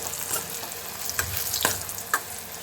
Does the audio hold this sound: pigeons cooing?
no